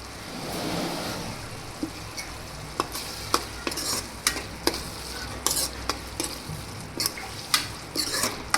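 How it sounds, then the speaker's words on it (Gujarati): Cabbage curry being stirred in a pan as coriander-cumin powder and fresh coriander leaves go in, with a steady soft sizzle and repeated sharp spoon scrapes and taps against the pan, close and clear. "તો આપણે છેલ્લે તેમાં ધાણા જીરું પાવડર અને લીલા ધાણા એડ કરી દઈશું"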